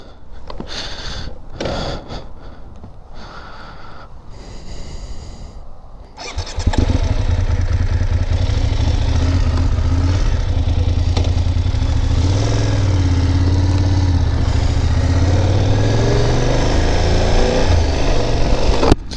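A 2025 BMW F 800 GS motorcycle cranks and fires after a few seconds of quieter handling noise, then settles into a loud, steady, close-up idle with a deep even throb.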